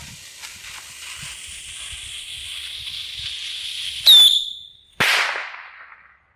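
A bottle rocket launches with a Coke bottle: a faint hiss builds, then a sharp whoosh, a brief pause and a second loud crack that fades into a fizzing rush.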